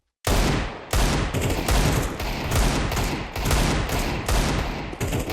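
Sustained bursts of automatic gunfire in Counter-Strike 2, loud and close, with several rapid volleys separated by brief gaps, each hitting with a sharp attack and dense crackle.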